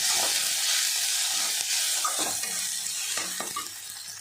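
Ginger garlic paste sizzles and hisses in hot oil with onions while prawn pepper fry is cooked, the frying steady and close, with a few stirring scrapes against the pan.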